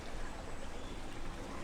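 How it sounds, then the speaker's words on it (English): Faint, steady babbling of a stream in Winchester runs continuously in the background, a soft, broad wash with no voices. "You can possibly hear the sound of the stream behind me."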